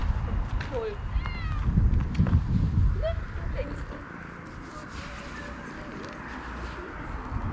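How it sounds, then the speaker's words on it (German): A few short, high meows from a nearby cat over a background murmur of voices and outdoor ambience. "Einmal diese süße Katze hier."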